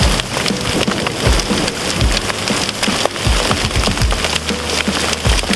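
Hail pelts down hard during a mountain hike on Mount Keogan near Okanagan Falls, British Columbia, a dense, loud patter of sharp ice hits on the ground and nearby surfaces throughout.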